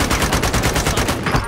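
Rapid bursts of automatic gunfire in the shooter game Call of Duty: Modern Warfare, loud and close, a steady stream of shots for about a second and a half before tapering off.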